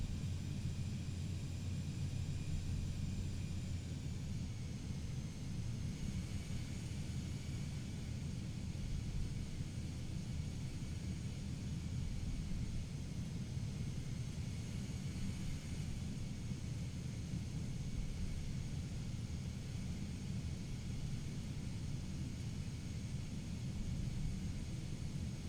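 An SF50 Cirrus Vision Jet taxis in Microsoft Flight Simulator between Innsbruck and Salzburg, its engine a steady low rumbling hiss with a faint whine, constant and fairly quiet throughout, with no talking.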